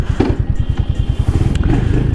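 A Royal Enfield Hunter 350 motorcycle idles with a steady low single-cylinder thump, with a faint mechanical clunk as it is put into gear, close and fairly loud.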